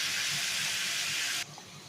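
Cut potatoes frying in oil give a loud, dense, steady hiss that cuts off abruptly, leaving a quiet background.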